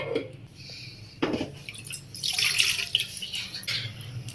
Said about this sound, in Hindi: इसमें हम 2 कप पानी शामिल करते हैं।